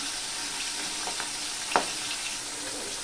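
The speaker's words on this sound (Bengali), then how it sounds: "যে মাছে আঁচ নেই সেই মাছে সরষের তেল মাখিয়ে ভাজলে তেল কিন্তু গায়ে ছিটে আসে না" Tangra fish frying in mustard oil, a steady dense sizzle close and loud throughout, with a few faint clicks and one brief knock partway through, and no talking.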